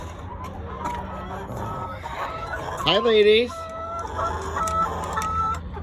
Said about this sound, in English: Yeah, we got some good chickens, huh?